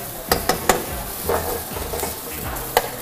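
Sharp scraping and clinking of a utensil stir-frying beef and vegetables with oyster sauce in a hot pan, a few quick strokes over a faint background sizzle.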